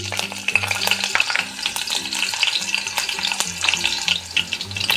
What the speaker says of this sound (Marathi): तेल छान कडले की मोहरी पहिल्यांदा टाकायची मोहरी छान तडतुड द्यायची